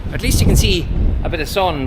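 A steady, loud outdoor wind blows from the northwest as a broad rushing roar with gusts buffeting the microphone, under someone speaking close by.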